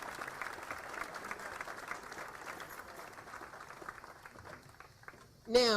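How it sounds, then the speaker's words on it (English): Crowd applause at a Kroger store ribbon-cutting ceremony in Collierville for Central Church, moderate steady clapping that thins out before a voice begins speaking at the end. "Please give them another round of applause."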